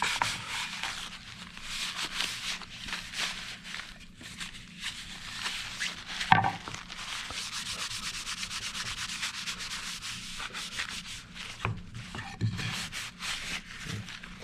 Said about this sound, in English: rub it. Make sure you get off all that excess wax.